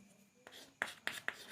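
Chalk or marker strokes on a board during a mechanics lesson on central orbits, three short sharp scratchy taps in quick succession after a quieter stretch, close and fairly faint with no talking.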